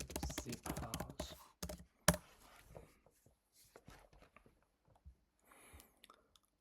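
Rapid typing on a computer keyboard, a burst of close, crisp keystrokes with one loud clack, then sparse scattered taps trailing off into quiet.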